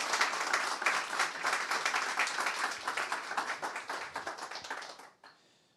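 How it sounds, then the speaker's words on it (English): An audience applauds after a talk at a Ubuntu Summit conference, giving a dense burst of clapping that thins into scattered claps and stops abruptly near the end. "Another round of applause, please."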